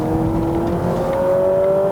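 A 2023 Honda Civic e:HEV RS hybrid accelerates hard, its steady rising engine drone with a climbing whine heard from inside the cabin, continuous and fairly loud with no gear breaks.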